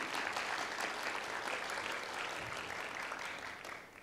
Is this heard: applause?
yes